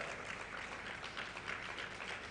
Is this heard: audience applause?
yes